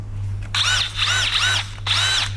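A power drill with a 90-degree angled chuck runs loud and close in three short whirring bursts, each ramping up and back down, with a steady low hum between them and no talking.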